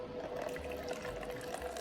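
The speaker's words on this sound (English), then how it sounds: "Let's pour and let's see if it drips" Water poured from a ceramic jug, a steady continuous liquid stream with a trickling texture, close and fairly quiet, with no talk.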